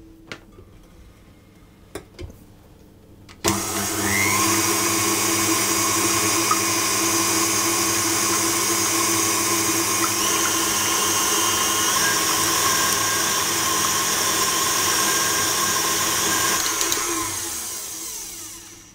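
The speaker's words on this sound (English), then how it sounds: "I'm going to start beating those until it's frothy" An electric mixer whirs steadily for about fifteen seconds, beating egg whites with vanilla powder until frothy, switched on after a few clicks of handling and then winding down at the end, loud and close.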